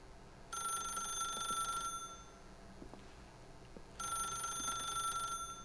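A telephone rings in The Stanley Parable, two long bright electronic ring bursts separated by a short pause, loud and clear over a faint room hum.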